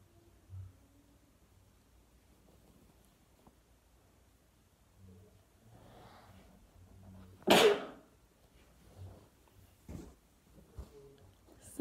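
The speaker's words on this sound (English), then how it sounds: "Okay, 3 more times I have to sneeze." A single loud, close sneeze bursts out of a quiet room during a sneezing challenge, with faint rustling and a few soft breathy sounds around it.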